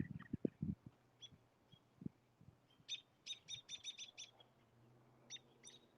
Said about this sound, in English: Do you hear the birds here and there? They're pretty talkative at sunset,